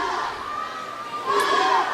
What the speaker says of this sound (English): And a full crowd here, I see.